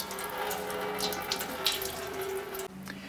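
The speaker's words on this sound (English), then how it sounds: "Go ahead and drain your cooling system." Coolant pours from the opened radiator drain plug of an Acura TL into a catch can, a steady close splashing trickle that stops abruptly near the end.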